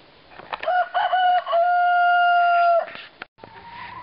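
A rooster crows in a backyard chicken yard, one long drawn-out cock-a-doodle-doo near and loud, with short clucks around it and softer hen clucking afterward.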